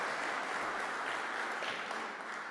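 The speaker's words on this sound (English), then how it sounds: "And a big applause to Anna." An audience at the Gaia-X Summit 2022 gives applause for Anna in one dense, even wash of clapping. It holds steady at moderate loudness from start to finish without noticeable speech over it.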